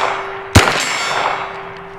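A single bullet strikes a large steel target, fired from a CZ Scorpion Evo 3 in the dark: one sharp metallic clang that rings briefly, over steady background hum.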